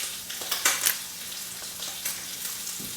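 Eel sizzling steadily as it fries in a pan, a close, continuous crackle with a few louder spits and stirring bursts, no voices.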